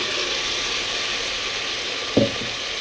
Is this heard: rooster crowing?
no